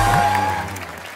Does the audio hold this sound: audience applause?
yes